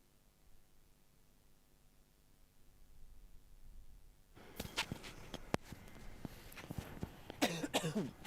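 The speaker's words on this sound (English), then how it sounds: "Sorry about the cough" During a live plane-spotting stream at Gold Coast Airport, a near, loud cough bursts out after a quiet stretch of faint hiss, with a couple of throat-clearing hacks and rustling handling noise following.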